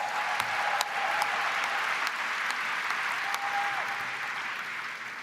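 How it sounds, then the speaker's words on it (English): A convention crowd applauds in a big hall, with thick, sustained clapping holding strong for several seconds and then easing slightly toward the end, and a few brief whistles or tones cutting through. "So let's give her a round of applause."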